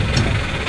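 A Subaru engine with a no-start fault catches briefly under throttle, a short steady rumble heard up close and alone for under a second.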